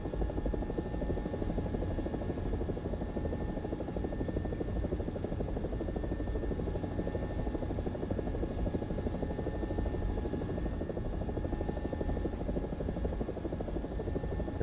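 AB 205 A-1 helicopter, an Italian UH-1H, flying over an urban map in a combat video game, with a loud, steady rotor thump and turbine drone that continues unbroken throughout.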